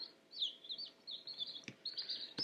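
Baby chicks under a brooder, peeping in rapid high-pitched chirps that run almost continuously and close by, broken by a couple of sharp knocks.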